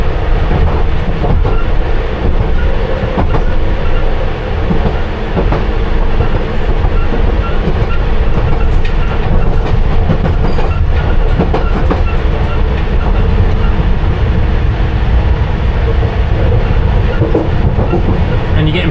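London Underground Piccadilly Line train running steadily from the rear cab, a continuous loud low rumble with rhythmic clickety-clack of wheels over rail joints throughout.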